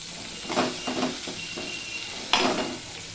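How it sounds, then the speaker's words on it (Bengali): Boiled potatoes fry in hot oil with a crackling sizzle, broken by several soft stirring scrapes and a sharper clatter of a utensil against the pan. "এই তেলের মধ্যে এবারে সিদ্ধ করা আলুগুলো ভেজে নেব"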